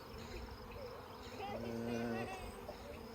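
Honeybees hum steadily while a nuc is installed and opened in Michigan's Upper Peninsula and its frames are handled, a close, faint buzz with a few louder passes of wings rising and falling near the microphone.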